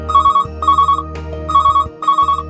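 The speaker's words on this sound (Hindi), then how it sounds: "मैं लेने जा रही हूँ आज का अगला कॉल।" A telephone rings for an incoming call during a live call-in show, repeating electronic double-burst rings in a steady rhythm, loud and close, with no talk over it.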